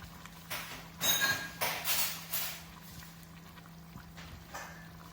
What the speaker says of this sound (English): I'm going to add 1 more cup of water